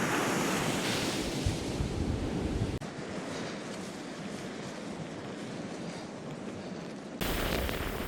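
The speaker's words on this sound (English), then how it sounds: "Listening to the sound of the crashing waves." Ocean surf breaking on a Fire Island beach at sunrise, a steady wash of crashing waves with heavy wind rumble on the microphone, continuous and close, no voices.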